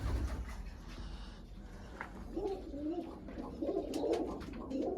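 Pet pigeons cooing softly in a coop with nestlings, low throaty coos building in the latter half amid faint background rustle and noise.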